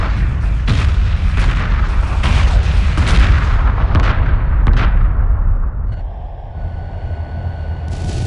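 Heavy weapons fire in the space strategy game Homeworld 2 Remastered, with a rapid run of loud booming blasts and rumbling impacts that thins out into a quieter electronic hum near the end.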